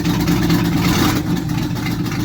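A neglected car's engine idles after warming up, a steady low rumble with an even mechanical throb heard close and loud, slightly easing partway through, with no talking.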